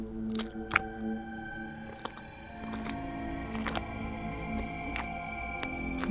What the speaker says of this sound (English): So you just want to stipple your latex over your sculpt.